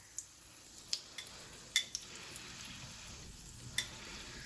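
Donuts frying in hot oil give a steady, quiet sizzle with a few sharp pops and crackles scattered throughout.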